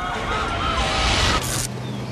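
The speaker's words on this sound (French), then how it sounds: "La sirène d'une ambulance hurlait à 120 décibels sur son passage." An ambulance siren wailing along a city street, rising and falling tones over low traffic rumble, loud and close, ending with a brief sharp burst before cutting off.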